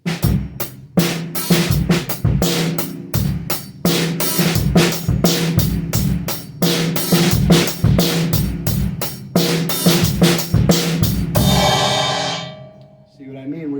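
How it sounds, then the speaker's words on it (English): A drum kit plays a steady groove, quiet ghost notes filling between sharp, loud backbeat snare hits, close and full, with no talking, ending as a final crash rings out and fades. "you're playing a beat and you're using ghost notes"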